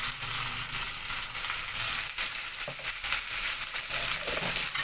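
Ginger garlic paste fries in hot oil for arvi chicken, a steady, close, crackling sizzle with faint stirring scrapes throughout.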